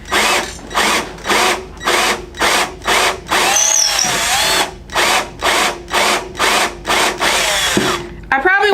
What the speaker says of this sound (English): So I'm just gonna drill in probably